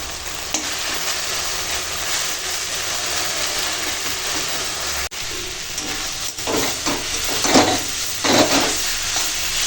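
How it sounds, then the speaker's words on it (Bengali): Tender leafy greens stir-fried in a pan for a Bengali meal, giving a loud, steady sizzle and hiss with bursts of stirring toward the end. "এখন এরকম নেড়ে ভেজে নিচ্ছি"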